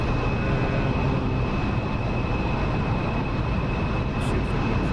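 An F-14 Tomcat jet passing over a foggy airfield in the DCS flight simulator, heard as a loud, constant broadband engine roar with a steady whine running through it, close and unbroken.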